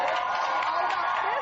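A studio audience on the Tyra Banks show cheers and applauds in a steady, bright wash of crowd noise, brief and fairly close, with no talk over it.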